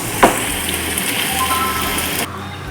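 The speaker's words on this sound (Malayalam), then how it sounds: "നന്നായിട്ടൊന്ന് ഇളക്കി കൊടുത്ത് മൂപ്പിച്ചെടുക്കാം." Okra frying in coconut oil in a pan, a steady close sizzle with a single sharp clink of stirring near the start, then the sizzle drops away abruptly near the end.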